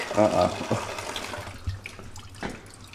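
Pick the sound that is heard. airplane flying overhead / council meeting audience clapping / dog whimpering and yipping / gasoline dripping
gasoline dripping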